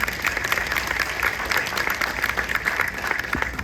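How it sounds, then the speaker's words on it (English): Steady applause from a banquet audience at a 2025 partner banquet, sustained clapping filling the room at moderate loudness throughout. "Give yourselves a round of applause, please."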